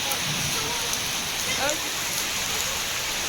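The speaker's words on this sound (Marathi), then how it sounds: "पाऊस आलाय आता." Steady rain falls in the front courtyard of a house with coconut trees, during a hailstorm, as a broad continuous hiss close by with faint voices in the background.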